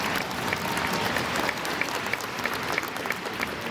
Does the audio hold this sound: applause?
yes